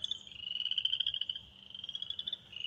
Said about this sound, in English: I was watching a little tree frog over there